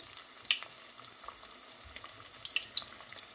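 Qatayef pancakes of flour and semolina batter frying in very hot oil, a soft continuous sizzle with faint crackles and a few brief pops, quiet and close, with no one talking.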